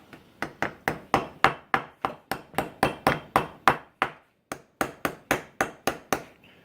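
A rail being lightly tapped into place during a rifle handguard installation, about twenty sharp, evenly spaced taps close up, with one short pause partway through.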